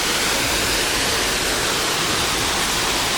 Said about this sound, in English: So we've got the waterfall here